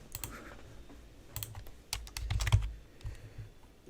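A few soft keypresses on a computer keyboard, a Ctrl+D shortcut in a Zepeto Build It session, scattered quiet taps with short pauses, close and faint.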